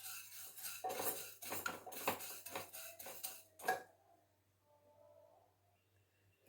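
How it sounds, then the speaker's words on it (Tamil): Moong dal dry-roasting in a pan for temple-style Thiruvadhirai kali, heard as a quick run of dry scraping and rattling stirs with metal clinks for several seconds, then stopping into near silence. "இப்போது பாசிப்பருப்பு வறுத்துக்கலாம். இதுவும் நல்லா செவக்க வறுத்துக்கலாம்."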